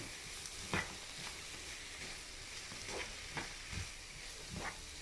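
Pizza filling being mixed in a bowl gives a continuous soft, wet churning hiss, broken by several scraping strokes and light knocks of the utensil against the bowl.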